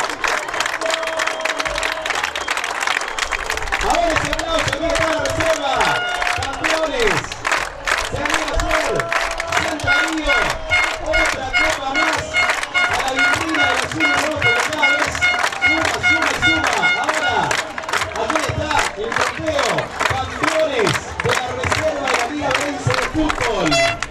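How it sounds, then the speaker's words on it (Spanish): Stadium crowd at a regional league football final applauding the reserve team, with dense sustained clapping, cheering and shouting throughout, loud and continuous, while voices call out over the din. "¡Ahora ese aplauso para la reserva!"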